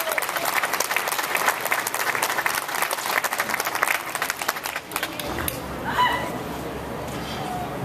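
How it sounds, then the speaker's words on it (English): A crowd at a Fair Tax rally in Orlando applauds, dense clapping that holds for about five seconds and then fades out, with a voice speaking briefly over the tail. "Give a round of applause for him."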